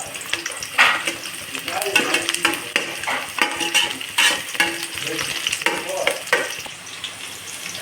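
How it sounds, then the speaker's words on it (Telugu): Chopped onions and green chillies fry and sizzle in a pan, with steady crackling broken by repeated scraping stirs and clinks of a spatula against the pan, close and moderately loud. "ఉల్లిపాయలు బ్రౌనిష్ కలర్లో వచ్చేంత వరకు మనము బాగా వేగాలండి"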